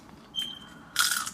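Crisp crunching bites into homemade tortilla chips, two short bursts of crackling crunch close up, the second louder and longer, with no talk.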